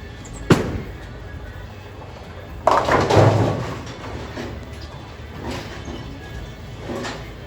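A bowling ball rolls down a lane on a national tournament oil pattern in Syracuse, NY: a sharp thud at release, then a loud crash into the pins with a rattling tail and faint later clatter.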